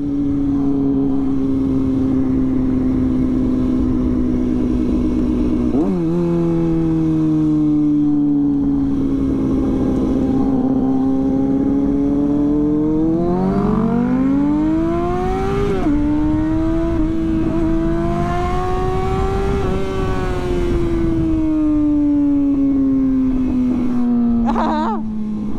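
A motorcycle on a weekend group ride revs and accelerates hard while racing, its engine tone dropping at a gear shift and then climbing steadily again, loud and close throughout.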